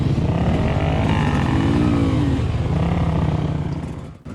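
Dirt bikes, among them a Honda XR200, set off on a Hatfield McCoy Buffalo Mountain trail with loud, continuous engine drone and rising revs close by, thinning out near the end.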